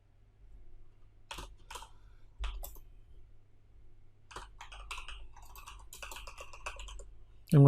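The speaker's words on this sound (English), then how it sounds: "I'm going to type" Typing on a computer keyboard, quiet scattered keystrokes in short bursts that grow busier toward the end, close and isolated in a quiet room.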